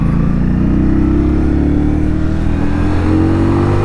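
A 2020 Indian Scout Bobber Twenty motorcycle on a test ride, its engine droning loud and steady at cruising pace with a slight rise in pitch partway, heard from the rider's position with no talking.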